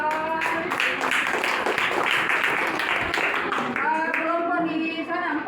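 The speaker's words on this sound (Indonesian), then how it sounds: "Oke, tepuk tangan dong." Students clap together in a classroom, a dense burst of applause filling the room, with children's voices and chatter mixed in throughout.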